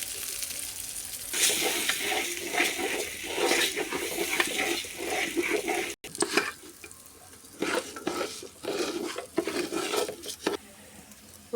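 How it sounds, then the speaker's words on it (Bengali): Polau rice grains fry in a pan with whole spices, a crackling sizzle broken by bursts of stirring and scraping, close and fairly quiet, with no talk. "এখন আমি দিয়ে দেবো পোলার চালগুলো। পোলার চালগুলো আমি ভালো করে ভেজে নেব।"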